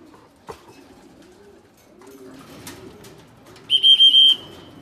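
Racing pigeons returning to their home loft after a 156 km training flight give soft cooing calls at close range, followed by a loud electronic beeping tone near the end, likely the arrival timing system registering birds.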